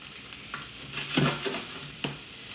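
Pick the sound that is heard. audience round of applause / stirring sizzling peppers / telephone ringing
stirring sizzling peppers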